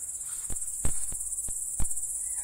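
Crickets or grasshoppers chirp steadily in grass, a continuous high shrill trill running throughout, broken by several sharp ticks or clicks at irregular intervals, with no voices.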